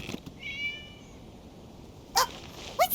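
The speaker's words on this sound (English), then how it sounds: "It was just a cat." A cat in a video game gives a drawn-out meow early on, then two short, sharper meows near the end, each clear and close over a quiet background.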